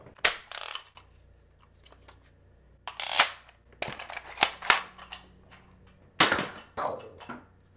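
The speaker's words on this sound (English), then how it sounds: "Nerf gun." A Nerf toy gun fired indoors: sharp, dry clicking pops come in small irregular clusters with quiet pauses between them, close to the listener, with no talking.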